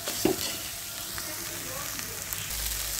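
Eggs frying in a little oil in a pan sizzle steadily while being stirred and broken into small pieces, a close, even crackle with a few stirring scrapes.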